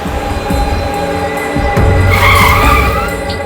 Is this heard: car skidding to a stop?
yes